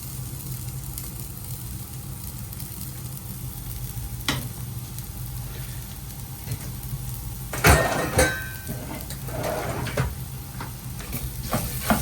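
Garlic fries in a pan of oil and butter left from cooking chicken, giving a steady soft sizzle with brief stirring clatter and a louder burst near the end.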